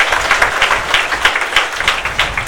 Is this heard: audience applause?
yes